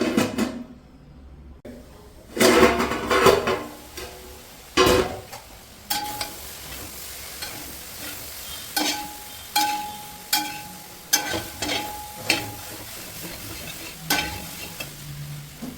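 Soya chunks being stirred and cooked in a pan over a low-medium flame, with a steady sizzle broken by repeated scraping and clinking of a spoon against the pan.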